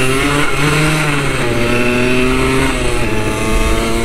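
A 2004 Suzuki DS 80 motocross motorcycle's small two-stroke engine runs loud and close, holding a buzzing, fairly steady tone with slight rises and falls throughout.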